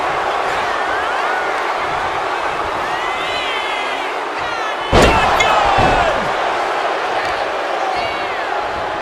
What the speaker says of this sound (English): High angle belly to back suplex